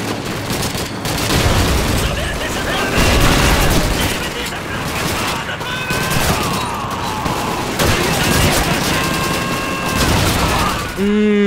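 Dense battle gunfire and booming blasts, including a grenade explosion, pound almost without pause in Call of Duty 2 on a Russian sniper mission, with a player talking over the din.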